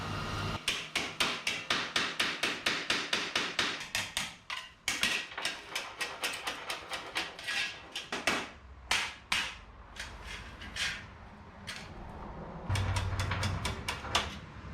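Hammer taps on the warped dashboard of a 1977 Datsun 620 pickup, a long run of sharp, fairly loud strikes in quick regular bursts with brief pauses, close by and unaccompanied by talk.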